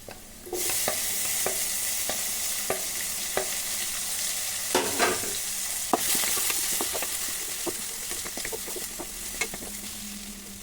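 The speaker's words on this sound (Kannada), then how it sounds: "ಟೊಮ್ಯಾಟೊ ಆ್ಯಡ್ ಮಾಡ್ತಾ ಇದ್ದೀನಿ." Tomato tipped into a pan of frying capsicum rice and stirred, a steady loud sizzle with repeated scraping and tapping of the spoon against the pan, close up and without talking.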